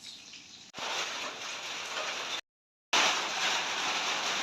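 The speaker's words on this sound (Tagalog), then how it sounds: "Umuulan naman dito sa amin guys." Steady rain falls outdoors during an afternoon shower in the Philippines, a dense, even hiss that runs close and continuous, cut by a brief silent gap before resuming slightly louder.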